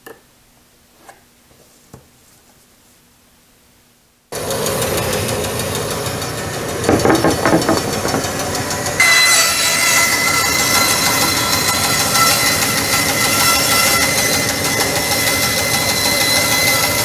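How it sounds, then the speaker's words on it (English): A table saw fitted with a dado blade cuts templates for a circular clamp rack, starting loud after a quiet lead-in and running as a steady, broadband whine with a brief surge partway through. "I'm going to cut these with the dado on my table saw"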